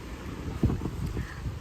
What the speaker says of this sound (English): we get like sudden gusts of wind like this